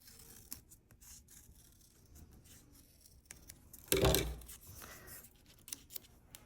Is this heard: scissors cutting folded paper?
yes